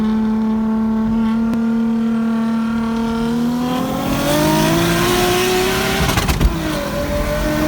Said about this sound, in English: That's Marco's 240SX RB swapped, and I think he's pushing like 390, 400 horsepower to the wheels.